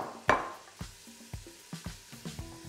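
Celery, onions and carrots sauté in oil over a low sizzle, with a series of close, uneven knocks and scrapes as the vegetables are stirred and dropped into the pan.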